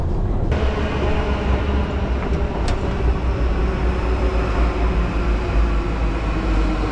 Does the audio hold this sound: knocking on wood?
no